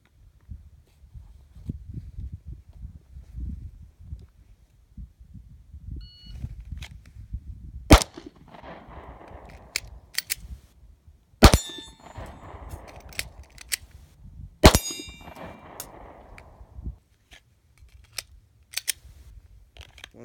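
Three sharp pistol shots from an S&W M&P40 during reload practice at 25 yards, spaced a few seconds apart, each a loud crack with a short ring, over quiet outdoor background rustle.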